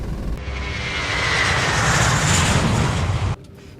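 An airliner's engines roar steadily during the takeoff run, loud and continuous with a rising whine, then the noise drops sharply to a quiet cabin near the end.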